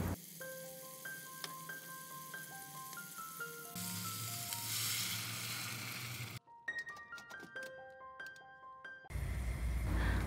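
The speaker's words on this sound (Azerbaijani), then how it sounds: "Xırda tikələrə doğranmış toyuğu dağ olmuş kərə yağında o üz-bu üz çevirdikdən sonra" Small chopped chicken pieces frying in melted butter in a pan, with a steady sizzle and intermittent stirring clinks, while a bright melodic background tune plays over much of it; no talking.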